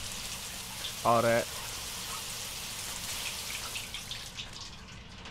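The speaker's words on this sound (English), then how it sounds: "That's a nice-ass fucking shower" Shower water pouring in the video game Beyond: Two Souls, a steady hissing spray running throughout, with a brief spoken phrase from a man breaking in near the start.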